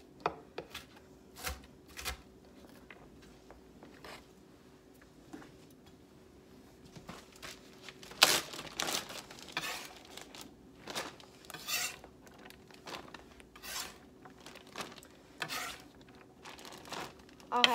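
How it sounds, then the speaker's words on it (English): Cut-up vegetables being bagged in a plastic Ziploc bag while prepping campfire chili, heard as repeated crinkling, rustling and rubbing of plastic with soft knocks, fairly close and intermittent throughout. "Now I'm gonna put them in a Ziploc bag."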